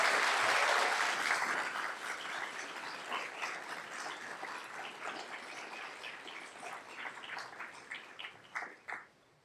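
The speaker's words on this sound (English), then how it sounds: "Let's give a round of applause for these students and their accomplishments." An audience at a spring chemistry graduation ceremony claps, starting loud and full, then thinning and fading into scattered individual claps before stopping.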